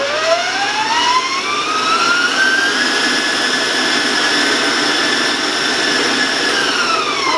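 Electric stand mixer creaming chocolate sugar cookie dough, a loud, steady motor whine with rising pitch that holds unbroken for several seconds close by, with no talking.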